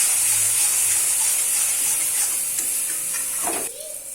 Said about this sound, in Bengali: জিরে গুঁড়ো, ধনিয়া গুঁড়ো। এখন মশলাটাকে ভালো করে ভেজে নেব।